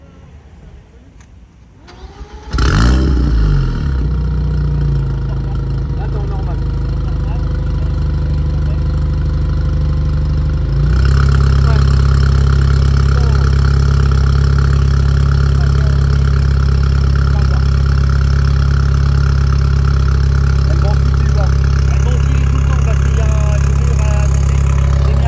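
An old Mini Cooper cranks and fires up after a short quiet lead-in, then settles into a loud, steady close-up idle with a brief step up in revs around the middle, voices talking faintly beneath it.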